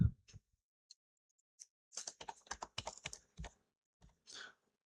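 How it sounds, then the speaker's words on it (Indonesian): A six-digit verification code typed on a computer keyboard, a short burst of closely spaced key clicks after a few isolated taps, crisp and near in a quiet room. "kita ketik ke sini"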